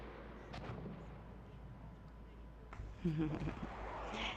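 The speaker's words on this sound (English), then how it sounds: "seeing all of those artillery barragements coming in, that is awesome" Distant artillery barrage in the Battlefield 1 video game, a low continuous rumble of muffled booms with a louder burst of explosions near the end.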